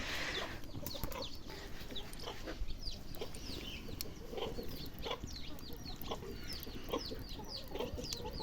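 Several chickens cluck and chirp repeatedly close by in a vegetable garden over a steady low background rumble, with short bright calls scattered throughout.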